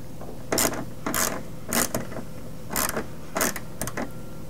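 A ratchet driving 7/32 screws into factory locations while installing Bushwacker pocket style fender flares on a vehicle, several short clicking bursts with pauses between, close and clear.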